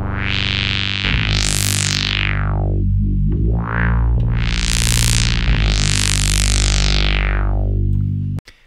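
Ableton vocoder sound run through amp and auto filter effects, a loud distorted drone whose filter sweeps up and down in broad swells before cutting off abruptly.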